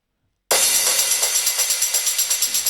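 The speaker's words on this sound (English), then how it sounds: "Then there's a tambourine" A tambourine jingles in a steady rhythm, bright shimmering hits repeating about every fifth of a second, played alone and fairly loud.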